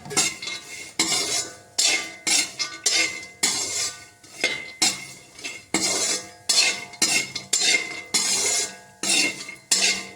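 A spoon stirs mixed dry fruits roasting in a kadhai, giving repeated scraping and clinking strokes in a steady rhythm, close and clear, with no talk.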